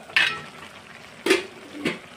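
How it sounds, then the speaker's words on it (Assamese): Soybean pulao being stirred and turned in a kadai: three separate scraping clatters of a spoon against the pan, each short and fairly close, with quiet gaps between and no talk. "এতিয়া বা লৰাই দি দি আছোঁ এনেদৰে ওলট পালট কৰি দি আছোঁ"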